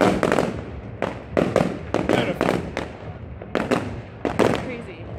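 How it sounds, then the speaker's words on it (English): Fireworks burst repeatedly during a celebration resembling a 4th of July night, a string of sharp, crackling bangs at irregular intervals with a steady crowd and voice murmur underneath. "I just want to watch the fireworks."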